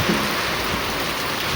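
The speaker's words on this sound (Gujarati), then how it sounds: "ઓહો કેટલો વરસાદ બાપરે" Heavy rain pours down steadily during a Rath Yatra procession day, a dense, loud, continuous wash of falling water with no voices over it.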